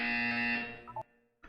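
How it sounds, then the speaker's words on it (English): A buzzer in the video game Portal 2 sounds as a loud sustained harsh tone for about a second, cuts off abruptly, then briefly starts again. "When you hear the buzzer, look down at the floor."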